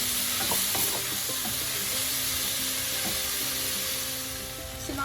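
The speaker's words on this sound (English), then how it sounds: "we have to cook this till the skin of the tomato gets little softened" Tomatoes sizzle and fry steadily in a pan for paneer butter masala, a constant crackling hiss with a few soft stirring scrapes, close and alone.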